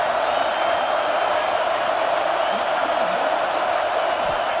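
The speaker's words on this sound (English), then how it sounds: "Crowd behind this defense on 4th down." A football stadium crowd roars in a steady, distant wash of cheering during a fourth-down play in a Tennessee versus South Carolina game, with a commentator's voice faintly underneath.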